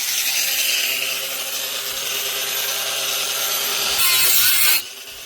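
A small angle grinder cuts steadily into wood up close, a harsh continuous whine that rises briefly near the end before easing off.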